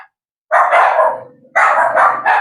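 Two loud, close dog barks at a government housing site in the Philippines, the second breaking into quick repeated yaps, with a short pause between them.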